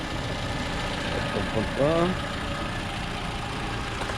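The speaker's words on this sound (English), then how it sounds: "We'll start under the hood with the vehicle running" A 2012 Toyota Camry idles steadily under the open hood, a low even engine hum with a brief louder blip partway through, heard close with a voice nearby.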